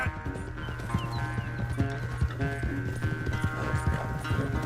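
Horse hooves gallop in Red Dead Redemption 2, a steady rapid clip-clop rhythm close up and continuous, with a dense game soundscape layered underneath.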